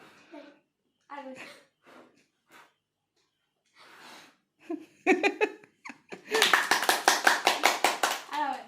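Rhythmic hand clapping at a children's birthday celebration for a child, starting as scattered claps and building into a steady, loud run of claps near the end, with brief children's voices and breaths in the quieter stretches before it.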